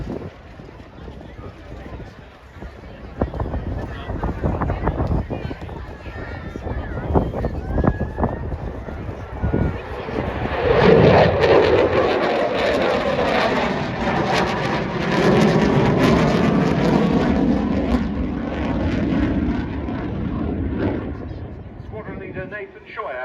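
Eurofighter Typhoon FGR4 fighter jet performing at the Duxford air show, a loud broadband jet roar that swells and sustains as it passes, with a commentator talking over the start.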